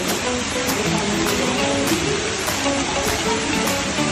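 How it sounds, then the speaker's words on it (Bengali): Steady rain falls outdoors at night around 2 a.m., a dense, even hiss of drops with no pauses and no voices. "দেখো বৃষ্টি পড়ছে, রাতে 2টা বাজে এখন।"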